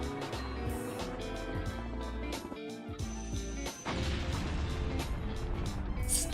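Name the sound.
explosion in Resident Evil HD remaster video game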